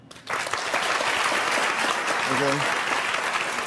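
Studio audience applause on a daytime talk show, a dense sustained clapping wash that fills the whole stretch after a brief spoken word, with a host's voice briefly heard over it.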